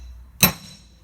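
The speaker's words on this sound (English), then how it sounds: "Maybe you need a bigger hammer." A single sharp metallic hammer strike on a Toyota Hilux Vigo drive shaft CV joint during a CV boot change, close and ringing briefly over a quiet background.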